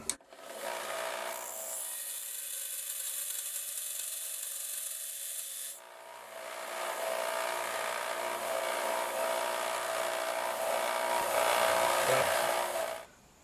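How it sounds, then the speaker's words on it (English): A 1-inch belt sander grinds a rough metal edge smooth, a loud, close abrasive rasp in two long passes separated by a short pause, with no talking. "It's a 1-inch belt sander, and I'm going to smooth up that rough edge with it."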